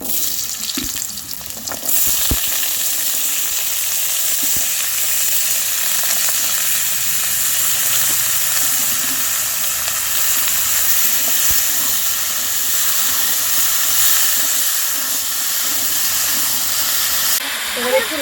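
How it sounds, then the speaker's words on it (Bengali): Potatoes fry in mustard oil in a pan, giving a loud, continuous sizzling hiss that holds steady throughout after a brief quieter moment at the start. "প্রথমে সর্ষের তেল দিয়েছি এবার আলুগুলো খুব ভালো করে ভেজে নেব"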